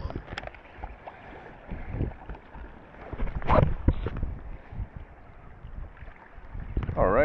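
Kayak paddling around the Isle of Seil: close, rhythmic splashes and water swishes from the paddle, with boat-hull sloshing and a low rush of wind across the microphone throughout.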